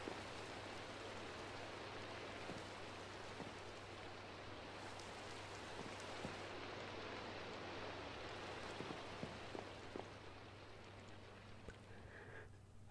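Rain falling in Minecraft: a steady, faint, even wash of rainfall continuing throughout, soft and diffuse like drops on surfaces, with a few small clicks and no voices.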